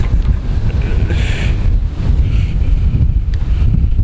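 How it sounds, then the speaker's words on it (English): Strong wind buffets the microphone in a steady roar during rooftop solar panel installation, with a whooshing gust rising in the middle; no voices. "It's quite windy."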